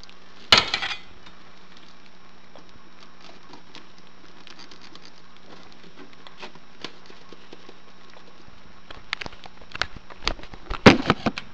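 Cooked macaroni noodles drop back into a pan with butter: a sharp clatter and sizzle at the start, a quiet stretch, then a cluster of wet patters and spatters near the end.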